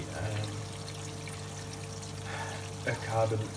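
The pump of an aquarium carbon reactor circulates water with a steady low hum and soft gurgling trickle, continuous and close, while a person speaks over it.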